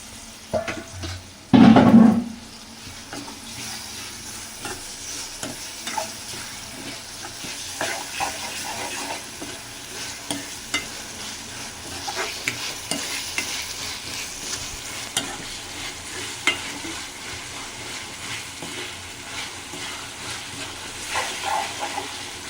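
Tomato pieces and curry leaves go into hot oil in a pan for a small fish curry: a sharp, loud burst of sizzling near the start, then a long, steady fry with repeated spatula scrapes and clicks.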